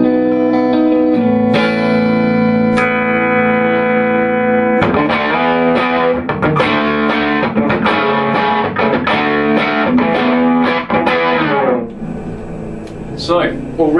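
A Suhr S4 electric guitar played through an Egnater Tweaker amp on a clean setting rings out with sustained chords, then shifts into loud, rhythmic strummed chords before tapering off.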